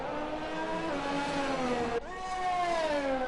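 A Formula 1 car in the racing game F1 2020, on the Japanese GP circuit, with its engine revving loud and close; a steady high whine climbs in pitch, breaks sharply at a gear change, then rises again.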